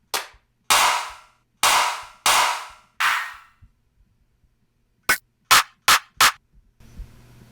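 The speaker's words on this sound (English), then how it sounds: "I want like a simple clap." A simple clap sample for a beat plays as five separate, spaced, loud hits. After a pause, four much shorter, tighter claps follow in quick succession, with a faint noisy tail at the end.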